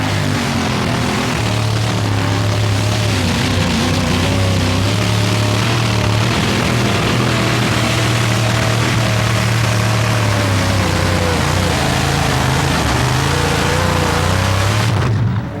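A truck or tractor pull vehicle at a 1987 TNT pulling event in Fort Wayne runs with its engine misfiring and not firing properly, a loud, rough, continuous roar with uneven low pulsing that carries on steadily.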